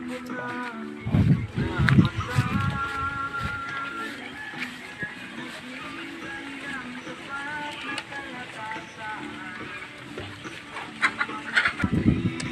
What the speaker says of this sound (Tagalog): ang atin pong mga alagang manok dito po sa ating chickenarium